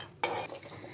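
Dry-roasted almonds slide and scrape off a hot pan onto a plate in one brief clattering rush, quick and close, fading into quiet.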